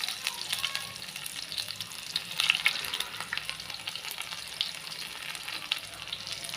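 Whole red chillies and chopped onion frying in leftover pakora oil for a tadka, a steady close crackling sizzle with busy bubbling that swells briefly midway and continues unbroken, no talking.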